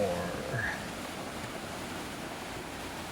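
Ocean waves wash onto sand in a continuous broad hiss and rumble, steady and moderately loud, with no distinct breaks and faint sounds at the start.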